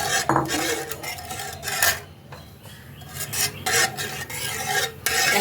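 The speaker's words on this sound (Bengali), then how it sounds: "এখন আমি এই ডালটা মশলাটার মধ্যে দিয়ে দেবো।" A metal spoon scrapes and clatters against a pan as thin split urad dal is stirred into spices fried with asafoetida in oil, giving irregular scraping and knocking bursts with a faint sizzle underneath.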